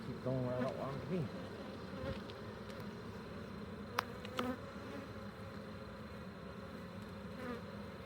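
Honeybees buzz during a hive swarm inspection in a close, steady drone with wavering pitch, a couple of sharp clicks midway, no talking.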